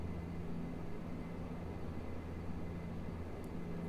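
A propeller plane in the Prepar3D flight simulator drones with a steady, even engine hum and low tonal throb, continuous and unbroken with no talking, its propellers bigger than the fuselage.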